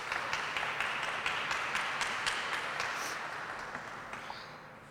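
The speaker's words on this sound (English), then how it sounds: "give her a round of applause" Applause for the new health director at a St. Louis city event, many hands clapping in a sharp, steady patter that is fairly quiet and distant, thinning and fading out toward the end.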